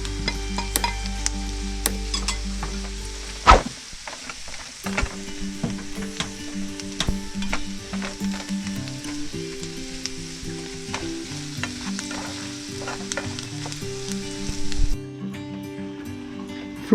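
Lobster pieces sizzle and fry steadily in a pan with a sauce base, with a loud burst of sizzling as they go in, then constant frying and occasional stirring scrapes under soft background music.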